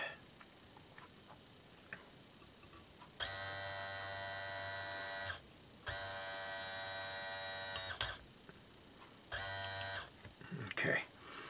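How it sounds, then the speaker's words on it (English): A reversible electric motor run in reverse gives a buzzing, harmonic-rich whine with a low hum in three separate runs, two long and one short, with quieter background noise and small clatters in the gaps. "So we'll start this again. It don't matter because this is a reversible motor."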